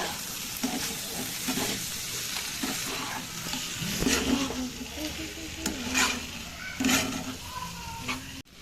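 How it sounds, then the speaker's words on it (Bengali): Raw tomato charchari with fried prawns and a little Maggi masala gets stirred in a pan, with repeated close spatula scrapes and knocks over a steady sizzle. "সবকিছু দিয়ে ভালো করে একটু নাড়িয়ে নেব।"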